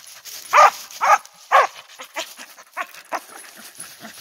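A coonhound bays at a treed raccoon in a run of loud, close, drawn-out bawls, three strong ones followed by a string of shorter, fainter barks.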